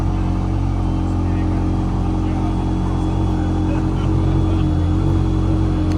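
The twin-turbo V8 of a 3D-printed Czinger 21C hypercar holds a loud, steady, rumbling idle right after a cold start, filling the whole stretch with deep, even droning.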